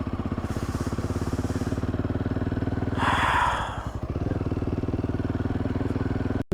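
A motorcycle engine runs steadily on frozen Dal Lake in Kashmir in winter, its rapid, even throb continuing close by, with a rushing swell partway through and a sharp knock at the very end.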